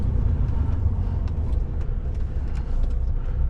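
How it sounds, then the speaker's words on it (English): Steady low road rumble of a truck coming up and passing, heard from inside a heavy-haulage rig carrying a Komatsu HM400 dump truck, continuous and fairly loud throughout with no talk. "So we just got this truck coming up."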